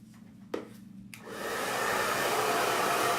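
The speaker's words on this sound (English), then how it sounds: "So you're pointing your blow dryer at it this way," A handheld blow dryer switches on and blows steadily at close range, a loud, continuous broadband whoosh that holds without a break once it starts while hair is styled for volume.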